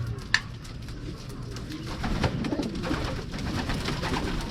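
Soft pigeon coos sound low and repeated under a noisy outdoor background, with an occasional sharp click.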